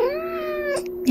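A pet cat gives a drawn-out meow indoors, a single close, clear tonal call followed by a brief second vocal sound at the end.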